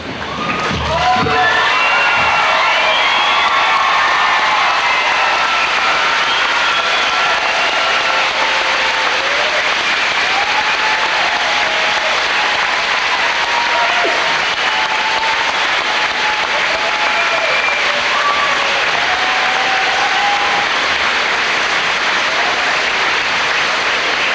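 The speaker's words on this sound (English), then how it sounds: "Ladies and gentlemen, let's stand and applaud the graduates." An audience at a high school graduation applauds and cheers the graduates for a long, steady stretch, with dense clapping throughout and scattered shouts and whoops rising over it.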